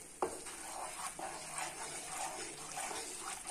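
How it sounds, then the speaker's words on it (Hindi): Maida flour being stirred and roasted in hot ghee on a low flame, a soft continuous sizzle with faint scraping of the spoon, quiet and close with no talk. "हमारा घी गरम हो गया है, अब इसके अंदर हम मैदा डालेंगे और इसे अच्छे से चलाएंगे।"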